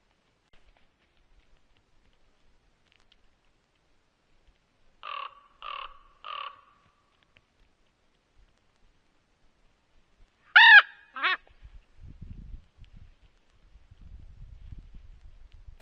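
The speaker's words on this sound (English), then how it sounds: "The ravens seem to really like this bait station. They are even calling in friends." Ravens calling around a winter bait station on Alaska's Kenai Peninsula: three quick croaking calls, then a pause and two louder, sharper calls. Faint low rustling follows in an otherwise quiet setting.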